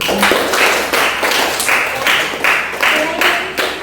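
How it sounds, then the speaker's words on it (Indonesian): Audience applause in a classroom, a crowd clapping in steady bursts that swell and fade repeatedly, loud and close, with no talk over it. "kita berikan aplaus dulu"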